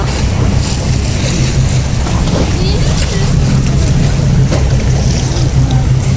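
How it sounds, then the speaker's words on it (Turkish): Large waves stirred up by a ship docking at the Çengelköy shore in Istanbul, a constant loud churning wash and splash mixed with steady wind buffeting the microphone. "Kocaman dalgalar var değil mi? Neden öyle dalgalar?"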